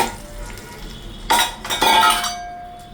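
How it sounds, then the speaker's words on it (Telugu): Dry red chilies and curry leaves crackling in hot tempering oil are tipped into simmering pomegranate rasam, giving two close bursts of sizzle and a brief metal clink of the pan, with no talk. "ఎండుమిరపకాయ కరివేపాకు ఆ తాలింపు ఇప్పుడు ఈ చారులో వేస్తున్నాం"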